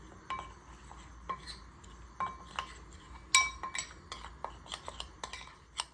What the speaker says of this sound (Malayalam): ഇനി നമുക്കത് മിക്സാക്കി വെക്കാം നന്നായിട്ട്